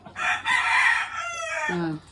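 A single chicken calls out close by with a drawn-out, strained cry that rises and then trails off.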